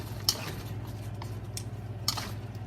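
Utensils clink and scrape in a wok as shredded pork is stir-fried in fish-flavored sauce, two sharp metallic clatters standing out over a steady low kitchen hum.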